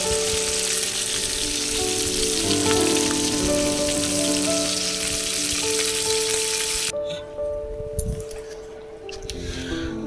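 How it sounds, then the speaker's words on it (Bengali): Rohu fish pieces fry in hot oil in a close, loud, continuous sizzle and crackle like heavy rain, which thins out and quiets toward the end. "এক এক করে আমার এরকমভাবে সব মাছগুলো যখন ভাজা হয়ে যাবে"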